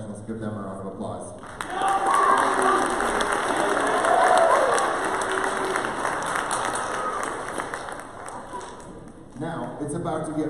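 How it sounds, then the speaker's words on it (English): Sustained audience applause and clapping fill a school auditorium after a high school band performs at a Christmas concert, loud and steady for several seconds before tapering, with a presenter's voice talking at the start and end. "Let's give them a round of applause."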